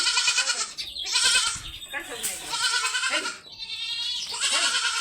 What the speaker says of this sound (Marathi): चला सुटल्या बकरी वावरात